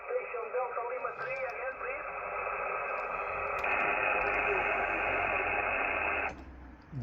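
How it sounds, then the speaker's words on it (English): Band-limited hiss from a JRC NRD-545 radio receiver with its noise reduction switched on, a steady hollow wash over faint garbled signal, growing denser midway and then dropping away abruptly near the end. "Introduces a weird hissing sound like that."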